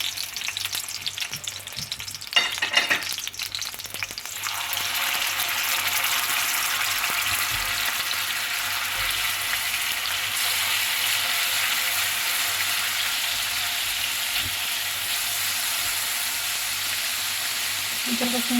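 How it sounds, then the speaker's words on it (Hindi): Ginger garlic paste fries in hot ghee in a kadai for chicken karahi, a loud steady sizzle that swells after an initial stir and continues close and unbroken, with no talk. "घी ऐड करने के बाद साथ ही मैं डाल दूँगी इसके अंदर अदरक लहसुन का पेस्ट"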